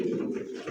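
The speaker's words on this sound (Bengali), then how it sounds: "টকটকা অথেন্টিক পিওর এক জোড়া রেড লাহোরি কবুতর" A pair of red Lahori pigeons gives a short, soft, low coo, close and clear with nothing else over it.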